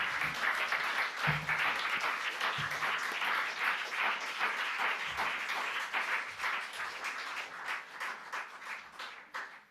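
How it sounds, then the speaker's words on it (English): An audience at a poetry reading breaks into sustained applause, a dense, even wash of many hands clapping that holds steady for several seconds before tapering off, with no speech over it. "Can we have another round of applause for Anne here?"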